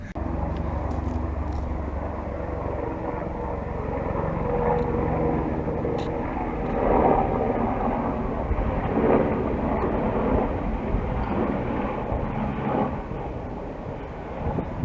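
A continuous low helicopter engine drone overhead, steady and fairly loud, with slight swells in intensity and no talking, heard on a climb toward a glacier.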